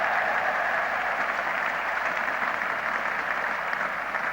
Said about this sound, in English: So something at last for the English supporters to cheer and clap about.